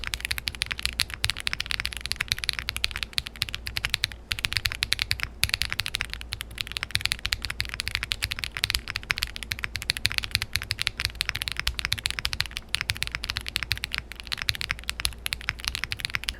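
Fast, continuous typing on a Zoom65 V2.5 mechanical keyboard with the PE foam removed produces dense, even, close clacks for the whole stretch, with no voices.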